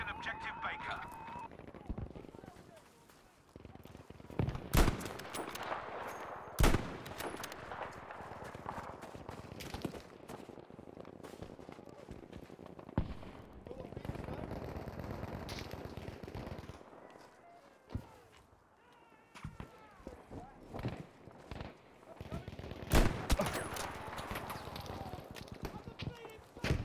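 Battlefield V gunfire: sharp shots and short bursts scattered through a busy match, some loud and near, others distant, over steady background noise, with a voice talking now and then.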